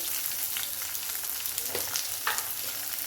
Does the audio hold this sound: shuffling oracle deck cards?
no